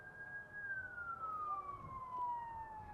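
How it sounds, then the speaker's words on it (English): A siren wails steadily, its pitch slowly falling, heard at a distance over a low rumble of traffic. "So fitting that there's a siren."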